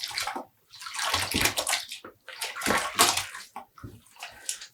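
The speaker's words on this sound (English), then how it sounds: "Squeezing out the water." Hand-squeezing water out of freshly washed, dyed commercial yarn, with wet sloshing and dripping bursts coming in uneven squeezes close by.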